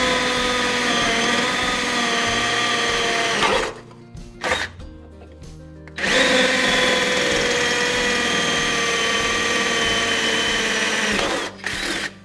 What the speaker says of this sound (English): The easiest way to do it is just with an angle attachment on your drill, or if you have an angle drill you could use that as well